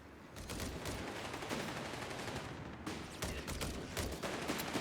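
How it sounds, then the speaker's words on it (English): Dense, sustained bursts of heavy machine gun fire mixed with other gunfire in a Company of Heroes 3 battle, loud and continuous with brief lulls. "That heavy machine gun's going to have to go."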